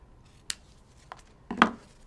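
Scissors snip through a small piece of ribbon for an autumn greeting card, heard as three quick, crisp cuts close by in a quiet room, the last the loudest.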